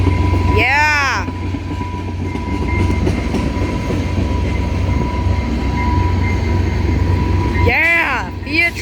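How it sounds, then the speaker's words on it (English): A CN freight train rumbles past steadily with a continuous low roar and rattle, punctuated by sharp high horn-like squeals near the start and end; voices talk over it. "come on, freight train, please end"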